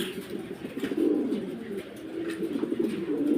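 A pair of Roman breed pigeons cooing nearby, soft low repeated coos rising and falling continuously over a faint background hum.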